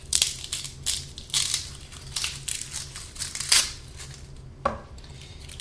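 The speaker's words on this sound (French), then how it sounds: "Je vais commencer par couper légèrement le pédoncule." Knife trimming the stem ends of two garlic heads on a kitchen worktop: a series of sharp, close crunching cuts and crackles of dry papery skin in irregular bursts, with quiet gaps between and no talking.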